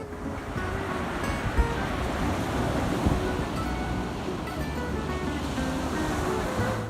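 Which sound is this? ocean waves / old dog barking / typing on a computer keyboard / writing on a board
ocean waves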